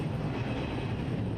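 Airplanes take off at Reagan National Airport, heard as a steady, loud low roar of jet engines that stays even and continuous throughout.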